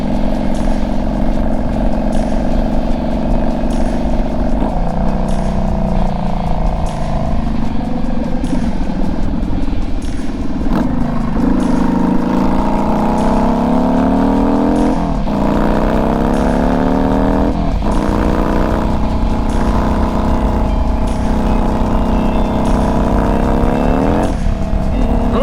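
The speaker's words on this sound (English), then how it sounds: "That's the transmission slipping." A motorcycle engine with a slipping transmission, loud and continuous from close up, its revs rising and sweeping up and down repeatedly without matching road speed, with wind noise over the bike.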